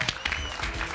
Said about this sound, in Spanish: Primero, ahí está, Tachuela Chico, un aplauso para él.